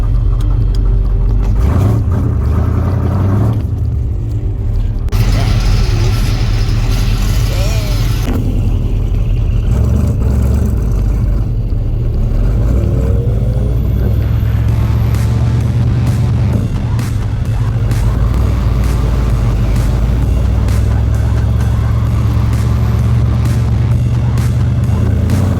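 A 1971 El Camino, running hot, rumbles and whirs through stop-and-go traffic, with a constant loud engine drone, occasional revving as it pulls away, and road noise throughout.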